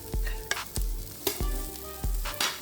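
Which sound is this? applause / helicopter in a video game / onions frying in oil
onions frying in oil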